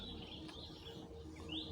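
Small wild birds being released near trees give faint, thin chirps and tweets, a few scattered calls over a steady outdoor hiss.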